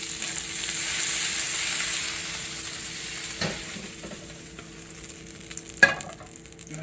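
Hamburger meatballs fry in oil in a pan with a steady close sizzle and crackle that eases a little midway. A couple of brief clatters stand out over the frying.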